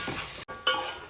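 Sliced onions frying in a pan for a ghee rice and chicken curry, a soft close sizzle with stirring scrapes, broken by a brief silent gap midway.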